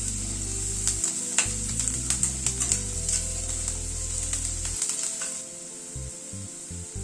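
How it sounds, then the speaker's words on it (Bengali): Onion and slit green chillies fry in a fenugreek tempering for dal, giving a steady loud sizzle with scattered crackles and stirring scrapes throughout, a low hum underneath. "কাঁচা লঙ্কাটাও পেঁয়াজের সাথে একটুখানি ভেজে নিচ্ছি।"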